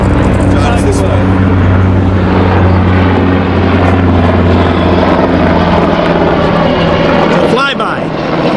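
An aircraft flies over during a flag retirement ceremony, a loud, steady engine roar that fills the whole stretch, swelling slightly near the end.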